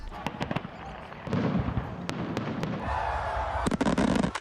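Fireworks over Toronto crackle and pop in a rapid, irregular series of sharp bursts against a steady rumble, heard from a middle distance.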